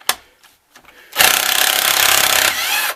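Socket wrench working a tight nut off a Ludix ignition: after a few faint knocks, a loud, rasping, rapidly rippling grind runs for almost two seconds and then stops.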